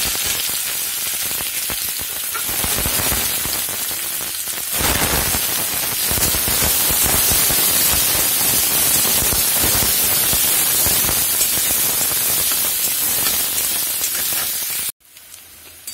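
Chopped onion sizzles in hot oil in a kadai, a loud, steady hiss like rain that runs unbroken for about fifteen seconds before cutting off abruptly.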